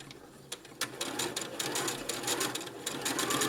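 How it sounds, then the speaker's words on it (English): Sewing machine stitching piping onto fabric, a steady fast mechanical whir with rhythmic needle ticking, close and fairly loud, running throughout the short stretch. "I'm going to start sewing"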